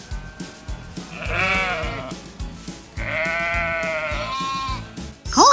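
Sheep resting on a farm bleat in two long, wavering cries, loud and near, over a bouncy background tune with plucked beats.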